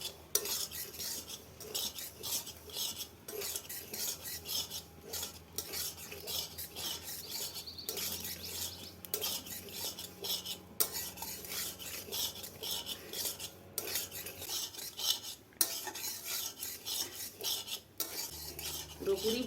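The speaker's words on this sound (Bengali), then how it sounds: "সুজিটা দিয়েও ওরকম অনবরত নাড়তে হবে" Semolina being dry-roasted in a pan (kadai) at home, stirred continuously with a spatula, giving steady scraping and rasping strokes against the metal with faint sizzling, no talk.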